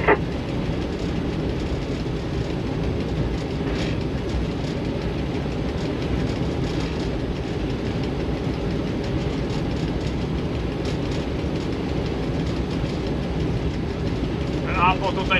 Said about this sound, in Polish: Pociąg numer 556-83 gotów do odjazdu.